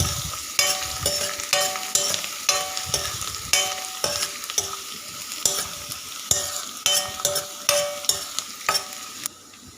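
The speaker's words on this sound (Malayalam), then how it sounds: "അതിൻ്റെ പച്ചമണം മാറുന്നത് വരെ നമുക്ക് ഇളക്കി കൊടുക്കാവുന്നതാണ്" A spoon scrapes and clacks in a rhythmic pattern while ginger, garlic and green chili fry with coconut, stirred repeatedly over a steady sizzle.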